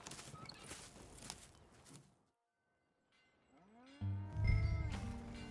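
Cattle lowing in Red Dead Redemption 2 on a farm, a couple of drawn-out moos that rise and fall in pitch, heard after a brief quiet gap that follows some shuffling and movement.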